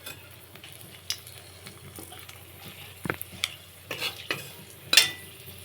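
A whole dried red chilli fries in leftover fish-frying oil while a spoon stirs it, giving soft sizzling under scattered scrapes and clicks of utensil against pan, with one sharper clatter near the end.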